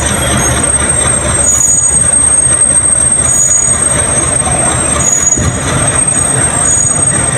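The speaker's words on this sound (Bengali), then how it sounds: "এটা হচ্ছে পঞ্চগড় লোকাল ট্রেন" A Panchagarh local train pulls out of the station beside the platform, its steady, loud rumble and rolling wheel noise filling the whole stretch without a break.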